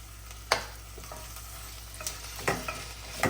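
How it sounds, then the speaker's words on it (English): Capsicum with salt and turmeric sautés in a pan: a soft steady sizzle broken by several sharp scraping stirs of a spoon, close and moderately loud, with no talking. "I will also add some turmeric and saute it for about a minute."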